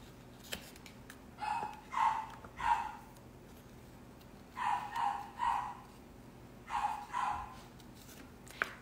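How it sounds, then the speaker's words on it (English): A dog barks indoors in three clusters of two or three sharp, fairly close barks, separated by pauses over a quiet background. "And don't listen to our dog."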